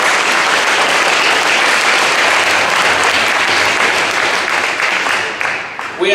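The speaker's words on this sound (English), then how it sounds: "Let's just give these guys a round of applause." Dense, steady applause from a large audience at a high school football banquet in Mediapolis, honoring the players, loud and continuous before tapering in the final second.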